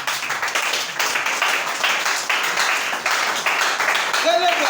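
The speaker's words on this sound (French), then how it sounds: "Acclamons très fort." Audience at a gathering clapping loudly and continuously, a dense wash of applause throughout, with voices heard over it.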